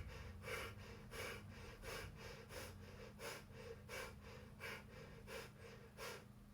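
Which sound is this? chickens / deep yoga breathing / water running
deep yoga breathing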